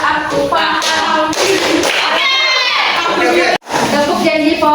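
A classroom group chants the rhythmic 'tepuk janji fokus' clapping routine, with loud, lively voices over sharp, patterned hand claps, then a brief pause before the chanting resumes.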